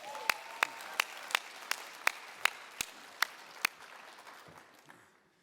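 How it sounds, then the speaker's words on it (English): At an energy awards ceremony, about ten crisp, evenly spaced hand claps ring out close and clear over a faint crowd murmur, then fade into soft scattered clapping. "So please give Carl a round of applause."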